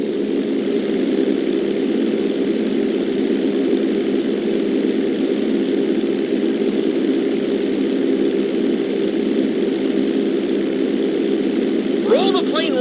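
A plane engine in flight in the video game GTA 5 holds a steady, loud propeller drone with no pauses. A brief rising whine cuts in near the end while a voice talks over it.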